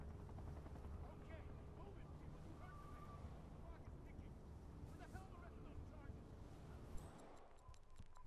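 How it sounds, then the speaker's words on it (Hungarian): A helicopter arrives in the stealth video game Hitman Absolution, its rotor drone throbbing steadily beneath other game sounds before cutting off near the end. "Most jöttek meg ott helikopterrel."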